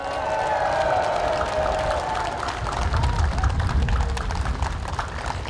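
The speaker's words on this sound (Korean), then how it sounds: "믿으시면 큰 박수와 함성으로 힘 한번 실어주십시오" Audience at an independent city council candidate's campaign office opening in Yeongju, Korea, bursts into sustained applause with scattered cheers, a steady dense clapping wash lasting throughout with crowd voices mixed in.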